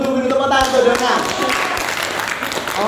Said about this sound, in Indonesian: ditunggu-tunggu tepuk tangan untuk Dona